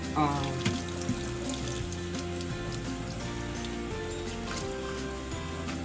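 Tap water runs in a steady, hissing stream over cabbage leaves being rinsed and rubbed by hand in a kitchen sink, continuous and fairly close under a soft musical background.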